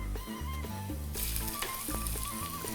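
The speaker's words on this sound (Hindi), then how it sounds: "तेल में गई इलायची, तेज पत्ता, 2-4 लौंग," Cardamom, bay leaf and cloves tossed into hot oil for a Mughlai chicken curry, crackling and hissing in a steady loud sizzle, with a brief burst of stronger spitting partway through and music playing underneath.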